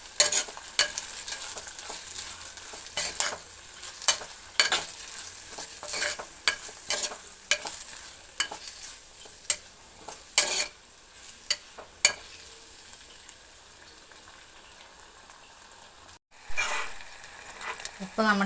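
Chopped tomatoes sautéing in a pan for a tomato fry, a spoon scraping and clacking repeatedly against the pan over a soft steady sizzle.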